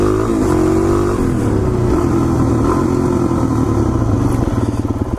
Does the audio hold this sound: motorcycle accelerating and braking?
yes